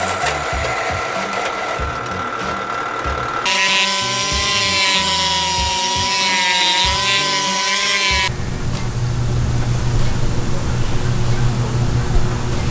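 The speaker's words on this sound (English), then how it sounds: "probably drill 2 holes." A power drill whines at high speed while boring holes into a car bumper bracket, a sustained steady drone mid-clip, with grinding tool noise before and after.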